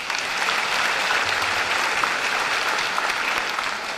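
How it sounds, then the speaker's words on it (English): At a high school graduation ceremony, the crowd breaks into sustained applause, a thick even wash of many hands clapping together at a steady level without any voices on top. "so give them a round of applause"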